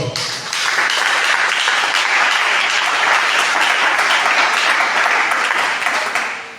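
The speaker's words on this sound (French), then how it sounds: "Est-ce que nous pouvons acclamer la parole?" A church congregation breaks into loud, sustained applause that swells quickly and holds steady for several seconds, dense clapping filling the space before tapering slightly at the end.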